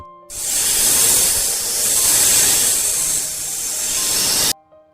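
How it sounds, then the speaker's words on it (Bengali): A loud, sustained hiss, breathy and rough, swells and holds for several seconds before stopping abruptly, like an angry snake. "মনে হয় কোনো বিষধর সাপ প্রচন্ড রাগে ফুসছে"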